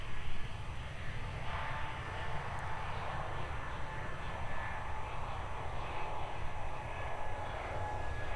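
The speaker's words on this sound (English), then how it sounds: "Qantas's Airbus A220 X-Ray 4 Bravo jetting off to Brisbane" A Qantas Airbus A220 jet roars steadily at Melbourne Airport as it takes off toward Brisbane, a broad, even engine rumble that holds at moderate distance without fading.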